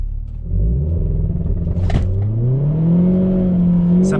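A Renault Clio 4 RS makes a launch-control start, engine rumbling low, then revving hard and rising steadily in pitch as it accelerates, loud and close, with no talking.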